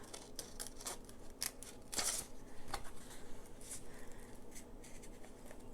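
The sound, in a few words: scissors cutting out paper rub-on stickers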